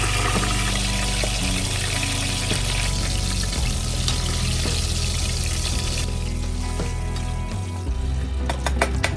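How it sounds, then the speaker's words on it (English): Pieces of potato-starch-coated fish frying in hot oil, a dense continuous sizzle and crackle running throughout, loud and close, with a few sharper pops near the end. "Potato starch. And fry them in oil."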